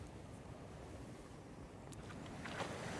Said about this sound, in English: I can hear the sounds of the ocean and it's so relaxing.